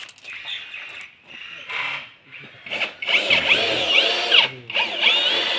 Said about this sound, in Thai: ยิงน็อตนะครับสองตัวสองตัวน็อตยิงเหล็กนะครับ เพราะว่าโครงสร้างเป็นเหล็ก